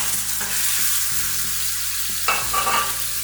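Salmon fillet, lightly seasoned with salt and pepper, frying gently in a pan, giving a steady close sizzle with soft stirring scrapes and brief spatter bursts partway through; no talking.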